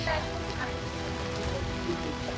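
Steady rain falls on an outdoor film set as daylight fades, a dense continuous hiss of drops hitting surfaces, with a faint low hum underneath throughout.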